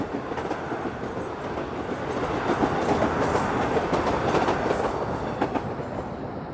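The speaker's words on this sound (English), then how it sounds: "There goes the subway train." A Toronto subway train passes close by along Yonge Street on a freezing -5°C December day, a loud, steady rumbling roar with rhythmic clickety-clack of wheels on rail joints that swells slightly mid-pass, with no talking.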